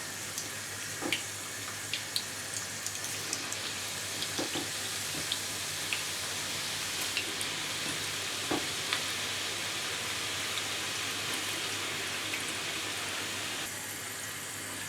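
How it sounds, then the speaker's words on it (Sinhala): Sliced bitter gourd fries in hot oil for a Sri Lankan karavila sambol, a steady loud sizzle and crackle with small clicks of stirring throughout, close and without talk. "දැන් තෙල් රත් වෙලා තියෙන අපි කරවිල ටික බෙදගමු"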